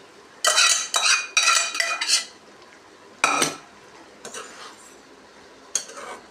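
Cooked green gram stirred into a pan for a kootu, a metal spoon scraping and clinking in several close bursts with pauses between, no voices.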